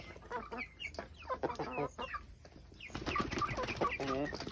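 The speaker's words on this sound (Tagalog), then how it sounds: "Oh, it's my chicken." Backyard chickens from a small flock of hens and roosters cluck in a run of close, choppy calls. The clucking grows louder and busier toward the end, and no one speaks.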